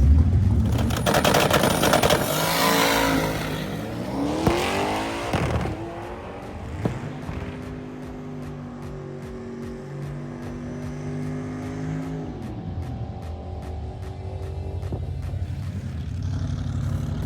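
A naturally aspirated, manual-transmission drag race car roars and revs hard, engine pitch climbing through several distinct gear shifts, loud and close, then settling into a sustained drone.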